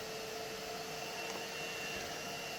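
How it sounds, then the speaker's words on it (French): A vacuum cleaner runs steadily as suction for vacuum forming a pinball ramp, giving a constant, loud whooshing drone with no pauses. "Donc là, je lance mon aspirateur."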